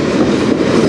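A CN freight train with Saskatchewan wheat cars rolls past on the Strathroy Subdivision, a loud, steady low rumble of wagons close by with no talk over it.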